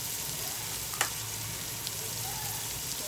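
Chopped onion sautés in a pan with a steady, moderate sizzle as spices are tipped in, adding a couple of faint clicks and light stirring.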